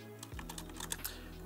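Faint, rapid keystrokes on a computer keyboard, a short run of quiet clicks over a low steady hum.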